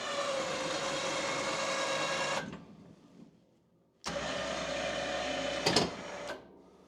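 An electric winch motor on a UTV snowplow runs under remote control in two bursts, a close steady whine that winds down, pauses, then starts again before cutting off.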